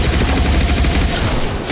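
A dense, loud burst of gunfire in the video game Mass Effect 2, continuous and rumbling for under two seconds with no talking.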